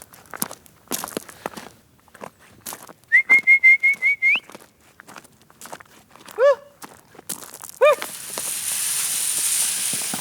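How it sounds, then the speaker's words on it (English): Footsteps crunch along, then a sharp trilling whistle calls horses, followed by two short rising whistles with pauses between, before a windy hiss takes over. "Just give them a whistle."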